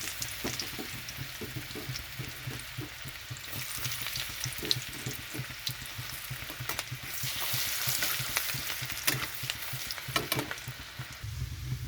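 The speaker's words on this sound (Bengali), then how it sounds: "তেলের মধ্যে দিয়ে দিচ্ছি রসুন," Garlic frying in hot oil for a spicy fish roe curry gives a steady, close sizzle with soft stirring scrapes running throughout, with no voices.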